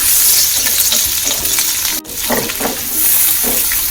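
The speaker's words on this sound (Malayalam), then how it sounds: "ബജി മസാല ഒരു സ്പൂൺ ഇട്ട് കൊടുക്കാം അതൊന്ന് ഇളക്കി കൊടുക്കാം" Pav bhaji masala being stirred into a pan of sizzling food, a steady loud fry with scraping spoon strokes throughout and a brief dip near the middle.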